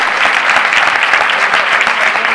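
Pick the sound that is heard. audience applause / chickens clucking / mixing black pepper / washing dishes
audience applause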